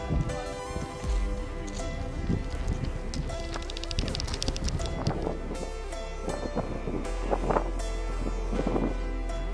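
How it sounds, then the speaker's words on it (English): Wind gusting across an exposed Patagonia hiking trail in Chile, a loud, constant roar with heavy buffeting and low rumbling rushes against the microphone, filling the whole stretch. "After about 1 hour of hiking, the wind starts to kick in."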